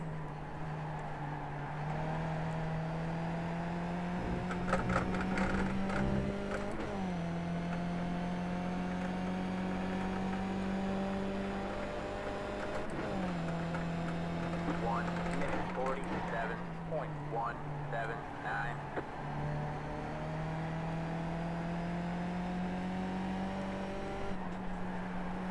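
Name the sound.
Skip Barber race car engine at Okayama in iRacing video game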